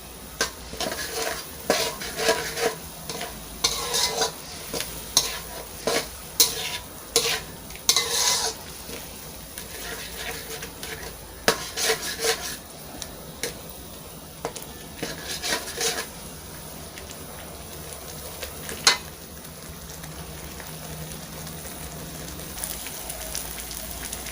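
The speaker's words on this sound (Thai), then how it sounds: "ก็เอาปลาลงไปราดเลยไปคลุกเลย" Fish tossed into a Thai three-flavor chili sauce in a pan, with steady stirring and scraping plus a soft sizzle, punctuated by louder clatters of utensil against pan.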